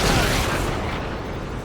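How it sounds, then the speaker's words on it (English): Enemy aircraft exploding in the Ace Combat 7 video game, a loud broadband blast that rumbles and fades over under two seconds. "Did you see that explosion? Looks like that's one of them down."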